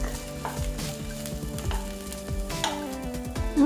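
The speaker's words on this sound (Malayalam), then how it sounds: "എണ്ണ ചൂടായി വന്നിട്ടുണ്ട്. നമുക്കിനി കത്തിരിക്ക ഒന്ന് വഴറ്റിയെടുക്കാം എണ്ണയിൽ." Brinjal pieces sautéing in hot oil for brinjal pickle: a constant close sizzle with a series of scraping, tossing stirs at an uneven rhythm.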